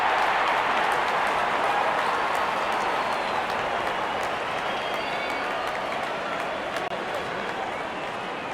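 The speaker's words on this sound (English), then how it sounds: "And the crowd cheering in anticipation." A cricket crowd at a Nepal vs India match cheers and applauds in a sustained, broad wash of noise, with scattered sharp claps rising above the roar before the first ball.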